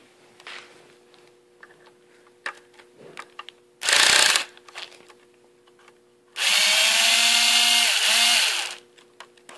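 A power driver fitted with a T20 bit backs a screw out of a motor: one short, loud whirring burst, then a longer sustained whir of about two seconds that shifts pitch as the screw loosens, with faint handling noises in between.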